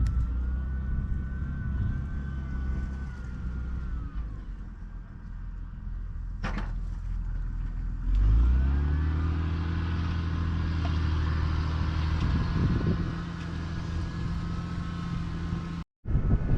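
A tractor ploughs a field, its heavy low engine drone running steadily throughout and rising in load about halfway through, with a brief clunk near the middle and a short dropout near the end.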